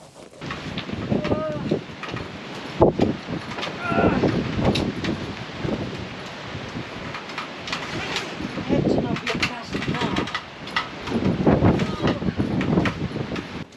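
Strong wind buffets the microphone outdoors at a Verneukpan campsite, loud gusts rising and falling throughout while people talk under it.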